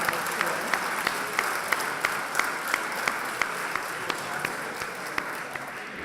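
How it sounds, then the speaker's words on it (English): A dinner audience claps steadily throughout, a dense, even wash of applause with scattered sharper individual claps standing out, moderately loud and with no talking over it. "Let's give you a round of applause"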